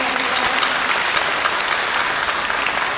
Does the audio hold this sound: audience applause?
yes